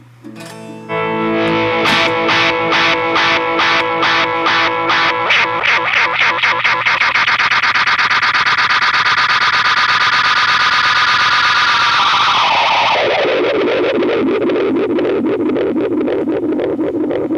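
A dense, swelling wash of repeating Echoplex tape echoes builds into a continuous loud, distorted drone, shifting downward in pitch near the end.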